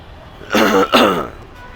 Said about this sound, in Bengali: কাশির সাউন্ড তো খুব বাজে আসার কথা সরি